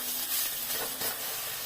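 Winter greens being stirred and lightly fried in a pan, a steady soft sizzle and steamy hiss with faint stirring, no voices.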